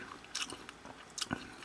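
Chewing on a bite of raw marinated Eonyang-style beef bulgogi from a supermarket, a few soft close crunches and bites over a quiet background.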